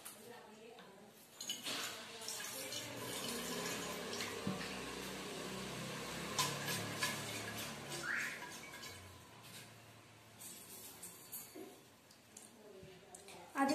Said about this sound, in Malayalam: ഞാൻ ആദ്യം തണുത്ത വെള്ളം കൊണ്ട് ഈ ബോട്ടിൽ കഴുകുകയാണ്